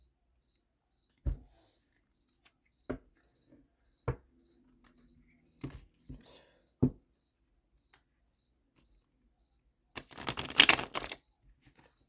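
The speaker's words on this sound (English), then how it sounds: "I can't riffle shuffle very well generally." Tarot cards being riffle shuffled, a few sharp isolated snaps and taps followed by a brief rapid burst of riffling near the end, close and quiet, with a short spoken exclamation partway through.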